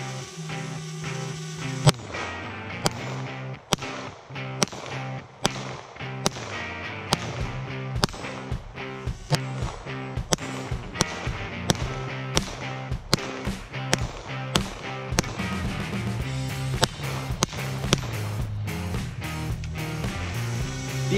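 An FN Five-seven pistol firing 5.7x28 rounds at a steel ballistic xylophone target: a long series of sharp, evenly spaced cracks, with lingering tonal ringing between the shots.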